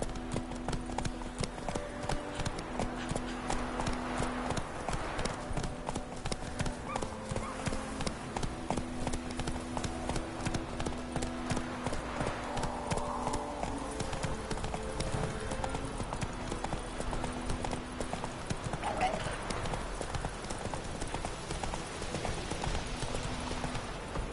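Roach the horse gallops in The Witcher, hooves clip-clopping in a steady, rapid rhythm throughout, with a brief whinny and game music running underneath.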